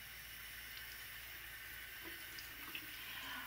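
Water runs from a tap onto a towel being soaked for hot massage towels, a steady, faint, hissing stream with no breaks.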